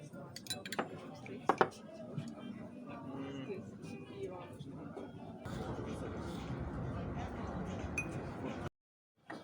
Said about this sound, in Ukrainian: Ложку постійно змочуєте в стакані?